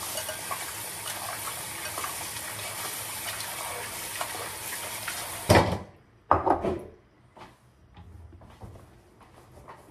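Raw chicken rinsed in water for sweet and sour chicken: steady splashing and swishing of running water for several seconds, then it stops and a few sharp handling knocks and quieter wet clatters follow.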